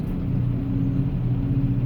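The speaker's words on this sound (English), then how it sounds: "I'm sitting in some sorry-ass DC traffic" Low, steady engine rumble heard from inside a car stuck in Washington DC traffic, a muffled continuous drone with no voices over it.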